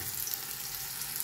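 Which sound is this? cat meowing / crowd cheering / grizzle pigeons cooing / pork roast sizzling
pork roast sizzling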